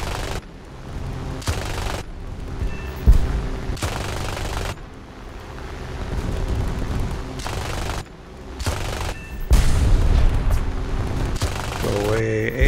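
War Thunder air battle with an anti-aircraft gun firing: repeated bursts of rapid gunfire and booming shots alternate with short pauses, loud and close, under a layer of game noise.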